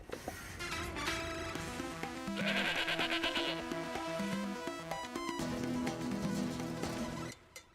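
A tune from the video game Guacamelee plays with a goat bleating repeatedly over the melody, fairly loud and continuous for several seconds.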